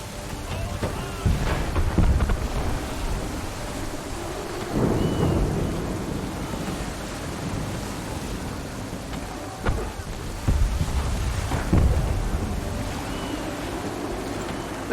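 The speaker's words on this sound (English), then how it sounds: "There's a storm coming, Captain." A thunderstorm at sea in Assassin's Creed 3 rolls through with heavy rain, wind and several loud thunder rumbles that swell and fade, with surf-like wash underneath and no clear talk.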